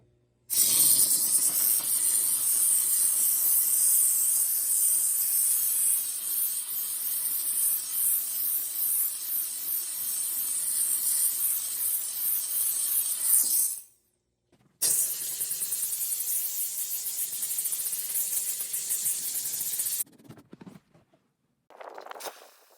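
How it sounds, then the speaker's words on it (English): A FoundGo tankless high-pressure steam cleaner blasts steam onto a soda spill on tan carpet, a loud, close, continuous hiss that cuts off briefly around the middle, resumes, then stops again with short bursts near the end. "Let's see if we can get some of that color out by using the steam cleaner"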